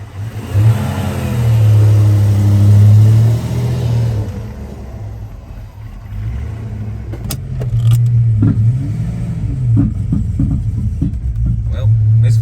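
A Foxbody Mustang 5.0 GT with a misfire rumbles loudly on a test drive, its engine surging and revving, then settling to an uneven drone with scattered clicks and rattles.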